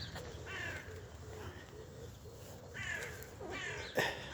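Crows caw repeatedly on a foggy Berlin morning, harsh calls arriving in bursts from moderate distance over a low background rumble, with a louder call near the end.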